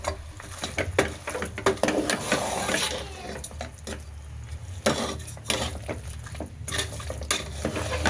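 Masala-coated pieces stirred in a pan over a low flame, a steady run of scraping and clinking spoon-on-metal strokes with a faint sizzle underneath, close and continuous, with no talking.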